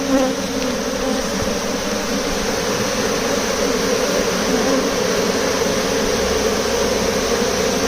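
Honey bees at the entrance of a Layens hive make a dense, continuous buzzing drone close by, steady and loud for the whole stretch with no voices.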